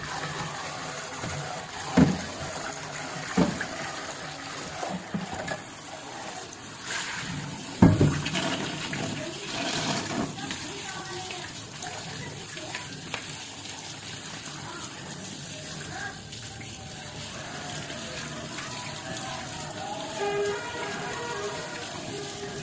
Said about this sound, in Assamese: মই মাংসখিনি এতিয়া ধুই লৈছোঁ, ভালকৈ ধুই লওঁ